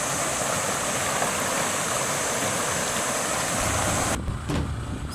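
Loud, steady rush of river water flowing, a dense continuous roar close by that drops away sharply near the end.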